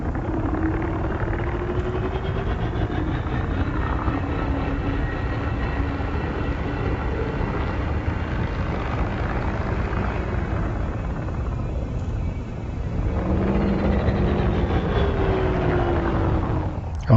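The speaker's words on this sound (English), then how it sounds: "So that's how the thrusters sound." Steady roaring thruster hum from a Krait II ship in the space game Elite Dangerous, a continuous whooshing drone that dips briefly then swells back up, loud and unbroken with no voices.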